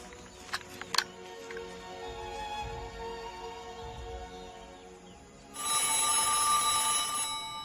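An old telephone bell starts ringing near the end, a bright sustained trill that rises over a quiet, humming room after a few faint knocks.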